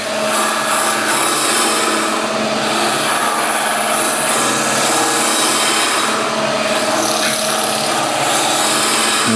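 A wood lathe runs steadily while a hollow sphere is turned, giving a loud, continuous broadband whir and scraping hiss that holds even throughout, with no talking.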